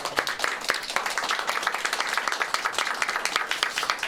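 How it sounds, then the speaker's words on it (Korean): Church congregation at a prayer meeting clapping together in welcome, dense brisk applause from many hands, close and continuous. "우리 서로에게 환영하고 또 격려하는 박수 좀 하면 좋을 것 같습니다."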